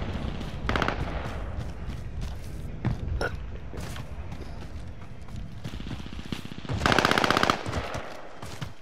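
Call of Duty Modern Warfare gunfire crackles in intermittent bursts, with a rapid automatic volley around the middle and a long loud burst near the end, under ambient game noise and occasional distant shots.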